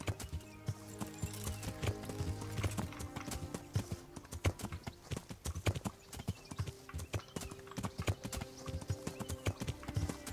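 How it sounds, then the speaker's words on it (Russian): Horse hooves clip-clop steadily in the medieval video game Kingdom Come Deliverance, a continuous run of crisp hoof strikes with occasional louder thuds over a faint background, no talking. "Конь."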